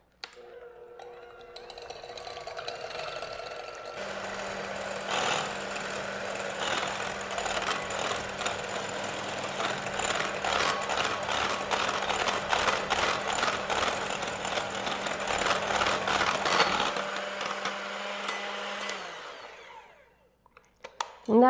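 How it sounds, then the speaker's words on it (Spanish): Three egg whites whipped with an electric hand mixer, a steady loud whirring drone with rattling beater texture running about fifteen seconds before cutting off, no talking. "Y ahora voy a empezar batiendo mis claras, que son 3."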